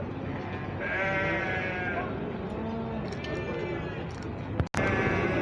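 Sheep bleat repeatedly in a flock at a livestock market in Tire, Izmir, overlapping calls near and far over a busy background, with a brief sharp click near the end.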